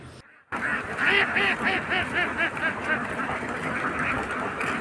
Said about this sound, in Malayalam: താറാവുകൾ ഇങ്ങനെ റോഡ് ക്രോസ് ചെയ്യണത്